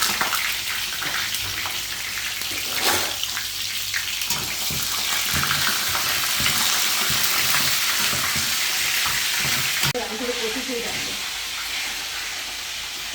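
Washed brinjals crackling in hot oil, a loud continuous sizzle with bursts of popping, close by, easing near the end as a brief low sound enters.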